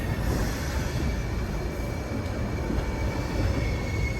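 Himsagar Express rolls into Shri Mata Vaishno Devi Katra station in Jammu and Kashmir, a close, continuous rumble of railcars and wheels with a faint high squeal and no voices.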